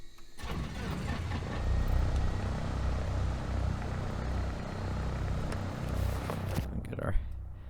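A propeller aircraft engine in X-Plane 11 cranks and catches, rising into a steady loud drone that holds for several seconds before cutting off abruptly, with a voice speaking over it.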